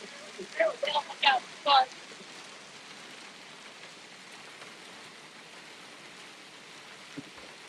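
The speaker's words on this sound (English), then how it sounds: "that hail, it's definitely falling right now" Hail falling on the ground during a live storm chase, a steady hiss of impacts across the whole stretch, with a few short voice-like bursts near the start and a faint tap later on.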